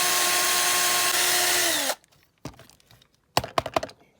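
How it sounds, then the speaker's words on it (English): A drill bores into a Corgi 309 Aston Martin DB4 die-cast model, a loud continuous whirring grind that slows and stops, followed by a few sharp clicks and taps. "I've now got the biggest drill my chuck will take."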